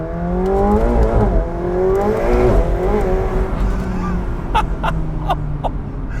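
A McLaren 720S Spider engine revs hard and climbs in pitch with a screeching tire squeal as it struggles for grip, loud and close.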